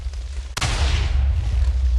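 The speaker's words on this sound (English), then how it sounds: "Although I did see some explosions in the thing." TNT blasts from a cannon in Minecraft set off a single sudden, loud burst about halfway through, then a dense rumbling roar that continues to the end over a constant low hum.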